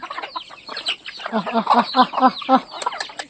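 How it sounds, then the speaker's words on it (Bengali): Local hens cluck busily at feeding time, a rapid overlapping chorus of short throaty clucks and calls from several birds nearby, with a few sharper high notes toward the end. "এটি আমার মুরগি এটি আমরা খাওয়ান দিতেছি"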